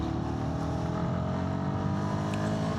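A Royal Enfield Guerrilla 450 motorcycle accelerates hard in third gear, its engine a loud, steady, close drone with wind rush, and no voices.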